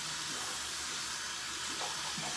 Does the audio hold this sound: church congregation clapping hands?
no